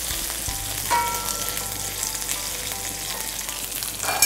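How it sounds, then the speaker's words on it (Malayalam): Ginger and green chilli sauté in hot oil, giving a steady, close sizzle with light crackles and an occasional stir or scrape. "എണ്ണ നല്ല ചൂടായി തുടങ്ങി, ഇനി ഇത് മൂപ്പിച്ചെടുക്കാം"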